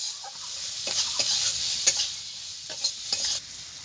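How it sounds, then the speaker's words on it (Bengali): Okra sizzling in hot oil with a little salt and turmeric, with several sharp scraping stirs of a spatula against the pan over a steady frying hiss, close and fairly loud, no voices. "বন্ধুরা, ভেন্ডিটা ভাজা হচ্ছে"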